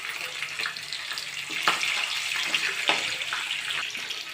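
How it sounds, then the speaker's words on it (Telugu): Green chillies frying in hot oil with tempering seeds, giving a steady close sizzle and crackle with a few sharper pops and no talk. "పచ్చిమిరపకాయలు వేస్తున్నాను."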